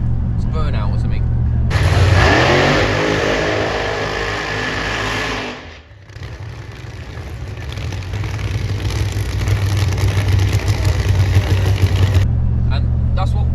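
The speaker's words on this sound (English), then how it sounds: "So we'll put in some clips there of it doing like burnout or something." A nostalgia nitro funny car engine screams through a sustained high-pitched rev during a burnout, loud and close, cutting out briefly partway through before roaring on for several more seconds.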